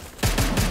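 Three loud, close gunshots fire in a video game set to single-shot mode, one crack after another at a steady, even pace with no pause between them.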